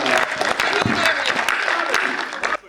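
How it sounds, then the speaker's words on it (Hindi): Audience clapping at a Hindi-Urdu ghazal mushaira and kavi sammelan, a dense burst of applause from a crowd that carries on steadily for nearly three seconds and then cuts off abruptly. "तालियां बजा दीजिए"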